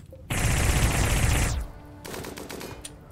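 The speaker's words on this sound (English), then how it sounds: "now they're shooting at me and I can't shoot back" Rapid automatic gunfire from a RimWorld firefight, a loud sustained burst of about a second followed by scattered quieter shots and impacts.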